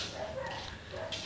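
A pet dog at home gives a few faint, brief yips and barks, heard quietly at a distance against a soft indoor background.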